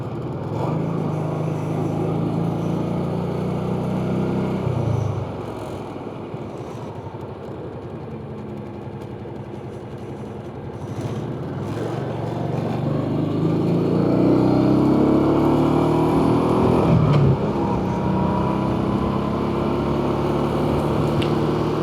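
A Honda Pacific Coast PC800 motorcycle cruises along back roads, its engine humming steadily under wind noise, dropping back briefly and then climbing again with audible revving through gear changes.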